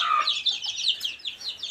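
Hen with her eight or nine newly hatched chicks in a sheep shed, giving high chirping peeps and soft clucks in quick overlapping bursts, close and fairly clear with no talking.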